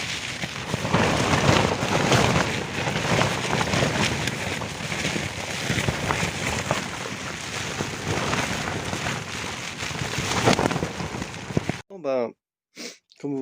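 Storm wind and rain pound a tent for about twelve seconds in a loud, dense, continuous roar with gusting swells, then the noise cuts off abruptly and a few short bursts of sound follow.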